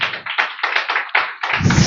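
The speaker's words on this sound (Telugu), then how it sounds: "ఇప్పుడు గట్టిగా చప్పట్లు కొట్టి" Loud, rhythmic clapping from a church congregation, a run of about eight sharp bursts of hand claps in quick succession, close and energetic, with no voices over it.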